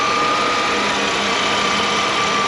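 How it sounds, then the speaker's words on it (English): A 1988 Mercedes-Benz 560SEL with its 5.6 liter V8 idles steadily, a smooth, even hum with a faint high whine on top, close by and alone with no talk. "Idle's nice and smooth"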